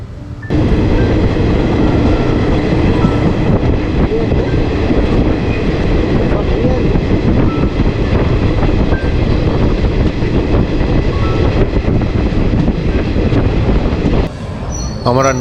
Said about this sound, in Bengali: যথাসময়ে আমাদের ট্রেনটি ছেড়ে দিল ব্যারাকপুর স্টেশন থেকে।